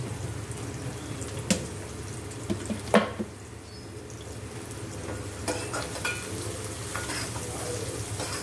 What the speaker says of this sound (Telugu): కొంచెం వేస్తున్నాం అన్నమాట ఉల్లిపాయ ముక్కలు ఫ్రై అవ్వడానికి